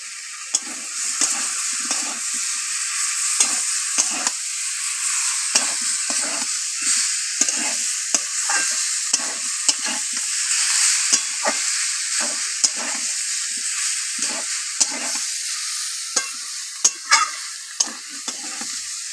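Fish roe seasoned with salt and turmeric sizzles loudly and continuously in a pan, punctuated by frequent scraping strokes of a spatula stirring it throughout.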